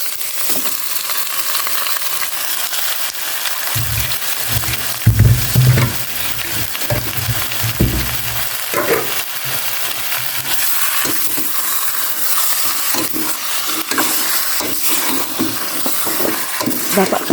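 Pork sizzling and spattering in a pan as its fat renders, a steady close crackle with louder bursts and stirring scrapes, under occasional low voices.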